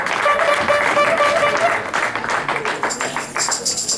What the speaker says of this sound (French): Acclamez le Seigneur. Clap for the Lord.